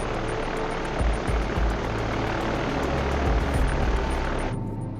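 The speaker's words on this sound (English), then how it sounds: "the crew of a B-29 named Enola Gay, after the Captain Paul Tippett's mother, takes off from their airbase in Tinian" A B-29 bomber takes off from an island airbase on Tinian, its propeller engines giving a loud, steady, dense roar that continues almost unbroken before dropping off abruptly near the end.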